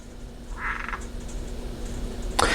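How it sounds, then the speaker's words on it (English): A frog gives a short burst of rapid croaks at middle distance, then a second brief croak a moment later, over a quiet indoor background with no talk. "do you hear that frog?"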